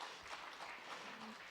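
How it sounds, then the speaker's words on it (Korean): Forum attendees clap at the close of a film policy forum session, a short, soft patter of applause heard from a distance in a large room. "자, 박수 한번 부탁드리겠습니다."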